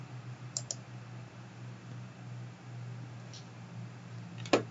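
Computer mouse clicks, a quick double click near the start, a faint single click in the middle and a sharper click near the end, over a quiet steady hum.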